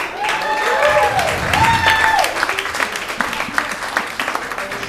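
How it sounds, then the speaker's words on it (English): Audience applause at a comedy showcase in a tavern, steady clapping from a small crowd, with a voice speaking over it early on before the clapping thins into scattered claps. "Give a big round of applause."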